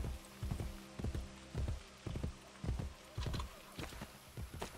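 In Assassin's Creed Brotherhood, a horse's hooves clip-clop in a steady walking rhythm, close and clear, with a faint snort and no talk over it.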